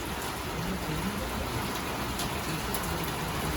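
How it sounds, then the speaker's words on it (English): Steady rain falls outdoors as an even, continuous hiss of drops, close and moderately loud throughout with no talk. "it's raining and we're finally getting some rain"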